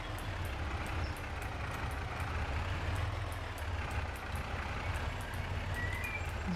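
A loaded farm vehicle drives along in Farming Simulator 22 on the Nordfriesische Marsch map, a steady, close engine drone with a low rumble that holds evenly throughout, with no talking.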